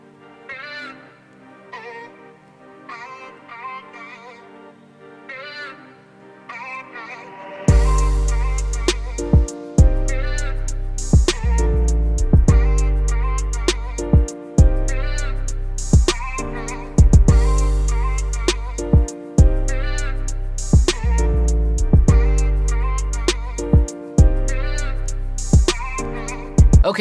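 Hip-hop beat produced in Studio One, opening with soft melodic keys before hard kick drums and punchy low end crash in, looping steadily and loud with repeated rhythmic hits.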